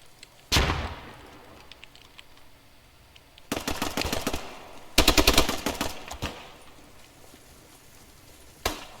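Gunfire and a grenade explosion in the World War II shooter game Post Scriptum: a sharp single blast, then two dense bursts of automatic fire and a final shot, all fairly close with quiet gaps between.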